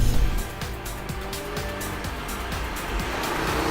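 A red Audi RS3 driving on mountain roads in Provence: a loud, close engine roar with rapid pulsing revs and gear changes, plus tire noise, no speech.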